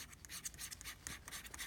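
A pen drags across paper in quick, faint scratching strokes, a soft rhythmic rasp of short lines one after another with no talking.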